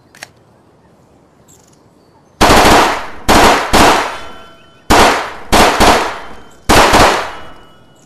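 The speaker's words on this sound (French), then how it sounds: "un Glock en full auto" A Glock pistol firing full auto at a shooting range: six loud, close bursts of rapid shots, each a second or less long, separated by short pauses after a quiet start.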